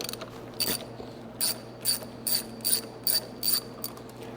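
A ratchet wrench turns out bolts from the filter covers on a Hydro Gear transmission, making a close series of about eight crisp clicking bursts at a quick, even pace in a quiet setting.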